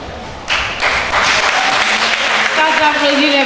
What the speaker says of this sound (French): On applaudit pour l'encourager.